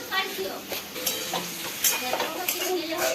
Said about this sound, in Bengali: এইটা একটু নেড়ে চেড়ে আর ঢাকা দিয়ে দিই এটা সিদ্ধ হয়ে যাবে আর ভাজাও হয়ে যাবে